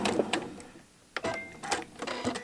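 A sewing machine stitches quilt binding into a mitered corner in short, close, mechanical bursts separated by a brief pause, with no talk.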